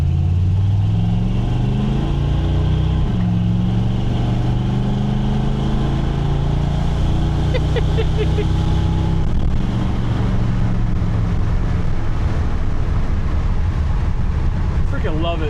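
An old square body truck with a new budget exhaust drives along, its engine droning loudly and steadily with shifting pitch as it accelerates, heard from inside the cab.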